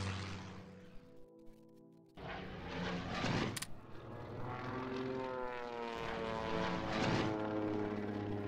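An airplane engine in the Hearts of Iron III strategy game drones steadily with a rising and falling propeller roar, faint at first and then swelling louder, with no talk.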